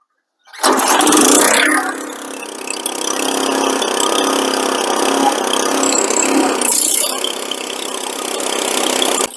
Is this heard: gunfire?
no